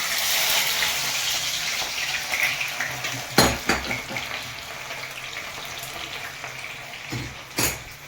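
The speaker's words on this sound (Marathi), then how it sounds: "आपण असा हा आता गोल्डन सारखा भाजून घेणार आहोत" Something fries in a pan while being browned to golden for a home-cooked biryani, with a steady hiss under clinking of utensils against pots and a few sharp metallic knocks; no one speaks.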